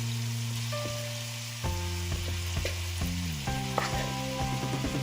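Large shrimp sizzle loudly as they fry in hot oil in a pan for a shrimp curry, a steady crackling hiss with brief stirring scrapes and pops.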